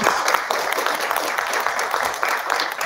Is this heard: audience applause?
yes